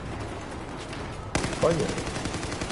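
Gunfire in the shooter game Battlefield 4: a sudden loud burst of rapid shots cuts in partway through and continues as dense crackling fire, with a man's brief exclamation over it.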